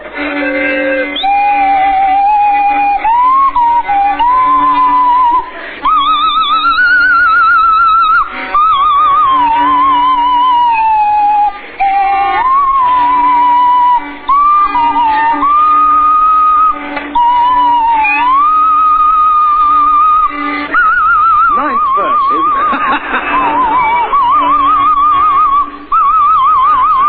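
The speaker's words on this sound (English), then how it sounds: "and Oddie has the swanny whistle." A swanee whistle plays a wavering, swooping tune in a steady band over a sustained musical backing on a radio comedy panel show, loud and continuous throughout.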